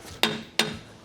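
Two sharp metallic hammer strikes on a vehicle's front differential, about a third of a second apart, each ringing briefly before fading, heard close by in a quiet garage.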